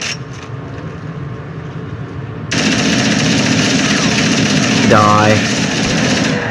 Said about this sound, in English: Switch back to the assault rifle.